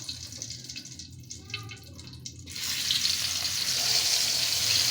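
Fish rubbed with salt and turmeric hits hot oil in a wok. After a quieter start, a loud, steady sizzling hiss erupts and keeps going without letup.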